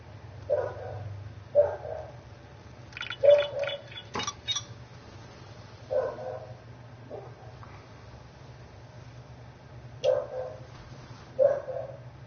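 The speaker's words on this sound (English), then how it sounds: "So probably hearing my dogs in the background." Dogs bark in the background of a home live-stream room, several separate muffled woofs spread across the stretch, moderately distant, with a low steady hum underneath.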